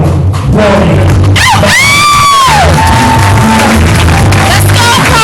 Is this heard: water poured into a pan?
no